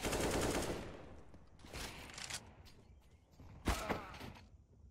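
Several bursts of gunfire in Counter-Strike: Global Offensive on the Overpass map, a heavy volley at the start followed by scattered shots, with a muffled, processed quality against a quiet background.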